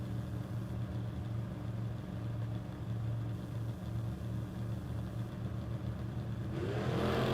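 Chevrolet S10 drag racer at a footbrake bracket race, its engine a steady loud mid-pitched drone with rumbling low harmonics, rising into a sharper rev near the end.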